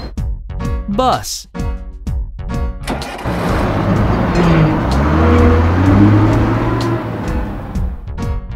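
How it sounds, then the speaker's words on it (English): Cartoon bus driving along, a steady road-vehicle rumble that builds after a brief musical opening and holds loud and close to the end, with an engine-like tonal sweep in the middle. "Bus."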